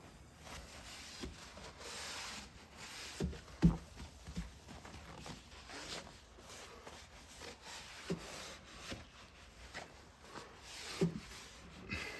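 Rubbing and wiping to clear gunk off the glass tube of an arcade game monitor, faint and steady, with occasional soft knocks and bumps, no talking.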